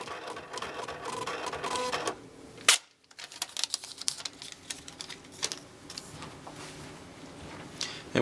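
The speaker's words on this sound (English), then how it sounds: "And it is printing a close report for the day." An Eclipse credit card machine prints a daily close report, giving a quiet, close buzzing and rattling printer chatter broken by a brief pause, then resuming in uneven bursts.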